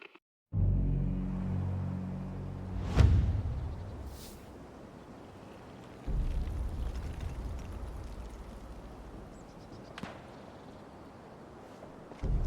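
Thunderous flak bursts and explosions boom through the Sniper Elite Resistance war game, with a heavy deep rumble and sharp blasts around three, six and ten seconds, plus a lingering roar between them; no one speaks.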